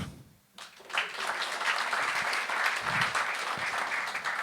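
A comedy club audience breaks into applause and cheering after a short pause, a dense, fairly loud burst of clapping that keeps going with a few low voices mixed in.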